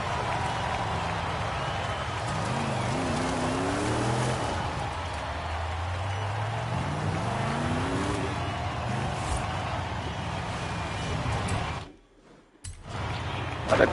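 A 1960 Chevrolet Corvette Stingray Coupe drives on dirt in the racing game Forza Horizon 5, its engine revving up and down in rising sweeps over a steady rushing road and tire noise, with a brief dropout near the end.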